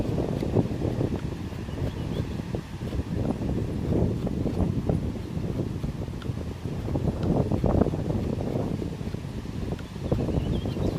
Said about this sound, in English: Wind's blowing so hard, blew it right off the clips.